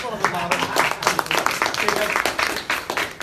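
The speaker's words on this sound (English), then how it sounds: "could we applaud again, please?" Audience applause at a talk on federalism in Nepal, a brief dense round of clapping from many hands, steady and moderately loud with voices murmuring underneath.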